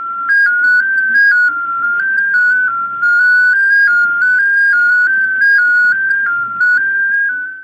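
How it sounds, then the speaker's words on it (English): An FSQ (Fast Simple QSO) amateur radio digital mode signal plays as a steady, loud whistling tone that steps between slightly different pitches in a continuous chain of short notes, with faint higher harmonics and nothing else heard. "That's the sound of FSQ, Fast Simple QSO."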